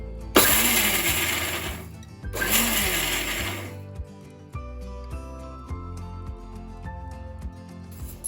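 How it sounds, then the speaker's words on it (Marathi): A mixer grinder coarsely grinds green chillies without water in two short, loud on-off bursts about two seconds apart. Quieter tonal sounds follow after the motor stops. "आता आपल्याला हे मिक्सर चालू बंद चालू बंद करून असं ओबड धोबड जाडसर वाटून घ्यायचंय"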